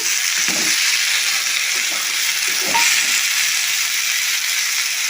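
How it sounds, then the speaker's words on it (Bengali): Potatoes go into a pan of fried whole cumin, onion and garlic, setting off a steady loud sizzle with a couple of stirring scrapes, close up and without speech. "এই যে মশলাটা আমার ভাজা ভাজা হয়ে গিয়েছে এখন আমি আলুটা দিয়ে দিচ্ছি"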